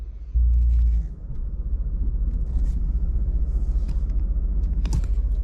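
A truck reverses a fifth wheel trailer, a loud low engine rumble that starts abruptly and holds steady, with faint clicks and knocks on top.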